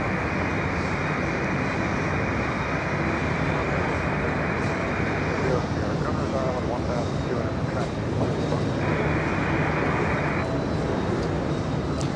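A Boeing 737 departs runway 31 left at JFK, producing a steady, broad jet roar that holds at a constant loudness throughout, with people talking faintly underneath.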